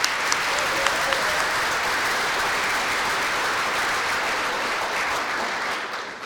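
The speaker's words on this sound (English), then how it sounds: "Please give them a round of applause." A large audience at a high school athletics hall of fame ceremony claps steadily and loudly, a sustained wash of applause that eases slightly at the end.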